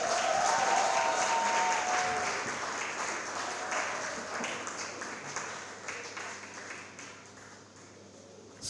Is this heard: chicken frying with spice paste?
no